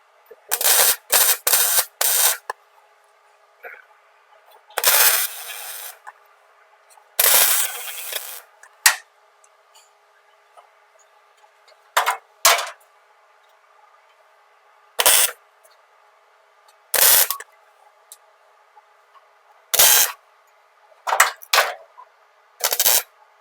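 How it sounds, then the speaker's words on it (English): Thin metal being welded on an LS1-swapped MGB GT project, with short bursts of crackling arc sizzle separated by quiet pauses and a faint background hum. "right now I'm having trouble controlling the heat on my welder"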